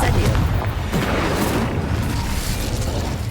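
A fire spell in Hogwarts Legacy erupts as a loud sustained roaring blast with a dense low rumble, steady for several seconds.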